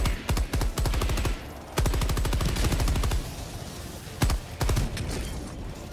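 Bursts of automated sentry turret gunfire in the video game Helldivers, loud rapid volleys that stop and restart several times, close by with a dense rattling rhythm.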